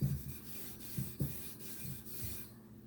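Metal part being deburred by scraping, heard as short rasping scrapes in an uneven rhythm, close and fairly quiet, with no talk.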